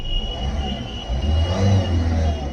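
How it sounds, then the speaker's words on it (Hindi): Ford Figo with a faulty steering angle sensor, its engine revved briefly at close range, a rising mechanical roar that swells and then settles back. "कार देख सकते हैं स्टार्ट है, रेस करके भी मैं दिखा देता हूँ आपको।"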